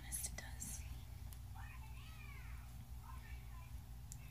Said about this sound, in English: featuring my cat Ivy.